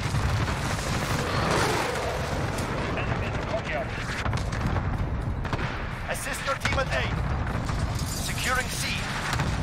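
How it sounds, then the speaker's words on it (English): Continuous heavy barrage of cluster strike explosions and gunfire in Call of Duty: Modern Warfare multiplayer, dense rumbling booms with sharp cracks throughout, loud and sustained, with game radio voices speaking over it. "Allied cluster strike and incoming."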